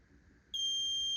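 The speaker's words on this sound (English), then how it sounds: "I might as well test the alarm just in case." A laboratory fume hood's airflow failure alarm starts abruptly after a low hum, giving a loud, steady, high-pitched electronic tone that holds continuously.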